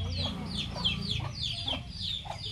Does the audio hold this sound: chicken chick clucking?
yes